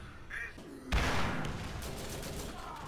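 Gunfire from a weapon in Borderlands, heard as a sudden loud burst of shots that drops into a sustained noisy rumble, after a brief quieter lead-in.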